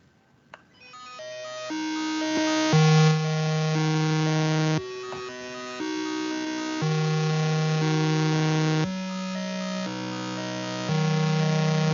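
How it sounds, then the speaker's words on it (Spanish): Bytebeat music generated by a short C code loop: harsh, buzzy synthetic tones stepping between sustained pitches in blocky repeating patterns, steady and fairly loud, alone without talking. "un género muy específico llamado bytebeat"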